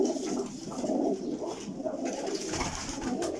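Parwazi pigeons at a breeder's loft coo steadily, soft low throaty calls overlapping continuously and close by, with faint chirps mixed in and no talking.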